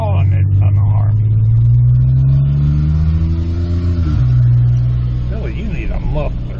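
A loud car engine with no muffler revs up with a rising, raspy growl, holds high, then drops back to a rough idle, with a voice faintly audible beneath it.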